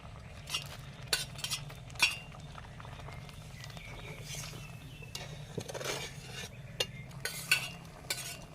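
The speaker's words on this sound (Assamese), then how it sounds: "এতিয়া এই ভাজি থোৱা মাছখিনি দি ল'ম" Fried fish going into a pan and being stirred, with scattered metal clinks and scraping strokes over a soft simmer. The sounds are close but quiet, with intermittent utensil knocks.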